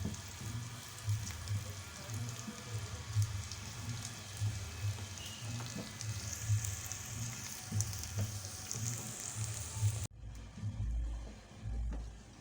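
Onions fry in oil toward light golden for a lentil and bitter melon dish, a rain-like crackling sizzle with rhythmic low stirring thumps, cut off near the end by a brief quieter stretch.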